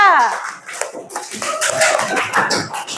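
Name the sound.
class clapping for group 3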